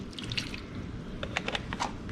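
Half and half poured into a bowl of mashed potatoes in a home kitchen gives a soft, faint liquid trickle with a few light drips over about two seconds, heard alone.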